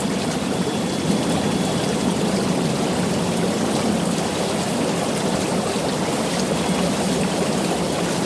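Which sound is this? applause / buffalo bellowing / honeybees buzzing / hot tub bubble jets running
hot tub bubble jets running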